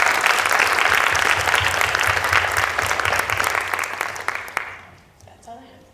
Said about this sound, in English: let's give Shruthi and her family a round of applause